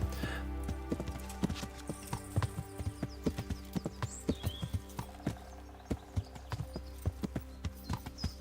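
Horse hooves clip-clop steadily in the medieval video game Kingdom Come: Deliverance, a brisk rhythmic trot of close, distinct hoof strikes over a low ambient hum, with a brief whinny.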